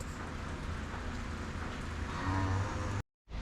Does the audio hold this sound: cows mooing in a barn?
yes